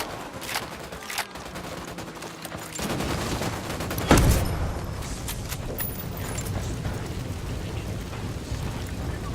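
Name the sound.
gunfire in video game Ghost Recon Wildlands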